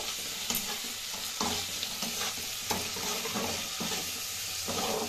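Chilli chicken base in a pan being stirred with two tablespoons of tomato sauce, a steady close sizzle broken by repeated rhythmic scrapes of the spoon.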